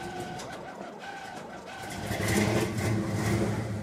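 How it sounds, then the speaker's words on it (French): A 1968 Cadillac DeVille 7.7 L V8 idling close by and then revving up, the engine swelling louder and rougher partway through. "Petit V8 qu'on entend très bien."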